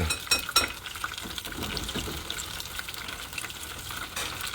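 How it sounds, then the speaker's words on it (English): Soft crackling sizzle of piroshki frying in hot oil, steady and close, with a few sharper pops and clinks near the start. "We got the Piroshkis frying."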